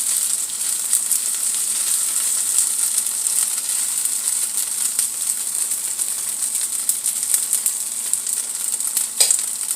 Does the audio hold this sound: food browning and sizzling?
yes